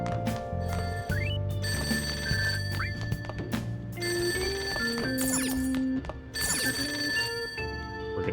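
In the Persona 5 video game, a payphone rings downstairs with repeated electronic bell trills over a layered game music track, loud and continuous.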